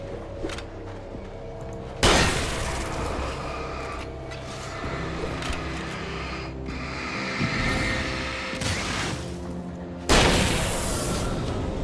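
Shotgun blasts in the game Alan Wake 2, with a couple of loud, sharp booms standing out over a dense, busy game soundscape and several quieter impacts between them.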